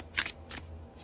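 A deck of tarot-style cards being shuffled at close range, two brief riffling bursts over a quiet background.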